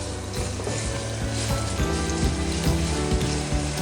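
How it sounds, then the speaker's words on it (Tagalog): Garlic sizzles in hot oil in a pan for a Filipino pork dinuguan, a loud, steady, close frying crackle with no talk. "Igisa na natin yung garlic."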